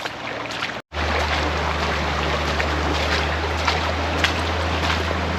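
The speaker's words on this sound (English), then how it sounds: "So I'm walking up a river now." Flood water rushes along a stream while someone wades upstream, a steady broadband wash with a constant low hum and occasional splashes, no speech.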